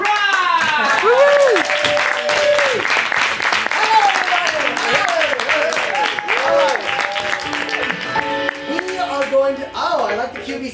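Audience applause and whoops for the Improv Shmimprov comedy group at an improv show, loud and steady for about eleven seconds, mixed with upbeat music and a talking voice.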